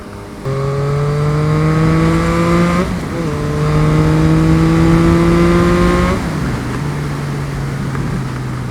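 A 2023 Yamaha MT-09 with its CP3 three-cylinder engine accelerating hard, loud and close, its rising engine note climbing through two gear pulls with brief dips at each shift before settling into a steadier drone.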